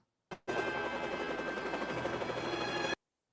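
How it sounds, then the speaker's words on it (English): A helicopter in a Friday the 13th film scene makes a steady, loud, continuous whirring drone for about two and a half seconds, starting abruptly after a short burst and cutting off sharply. "Helicopter there and everything."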